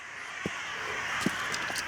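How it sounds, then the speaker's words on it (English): Crows caw a few times outdoors at a site of old fortifications, short scattered calls at moderate distance over a steady background hiss. "Sorry, all the crows are screaming."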